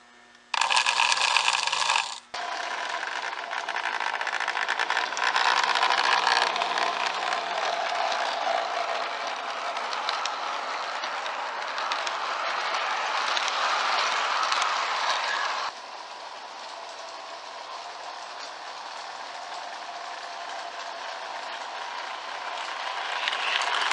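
A restored Lionel 218 model train locomotive from a 1960 set runs at low speed, giving a steady close mechanical whir that starts abruptly and drops slightly in level partway through, with no talking.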